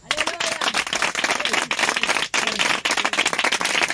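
A church congregation in Benin breaks into continuous clapping and applause for Jesus at a cell consecration, the dense claps sustained and loud across the whole stretch with brief dips.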